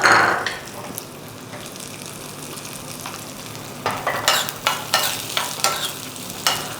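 Apricots and cashews fry in ghee with a quiet, steady sizzle, and a run of sharp, rhythmic spoon scrapes and knocks against the pan comes in the later half.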